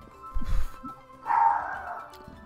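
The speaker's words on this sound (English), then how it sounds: "Okay, my dog is barking." A dog barks once or twice somewhere in the house, a moderately loud, drawn-out bark after a dull thump, with quiet background noise.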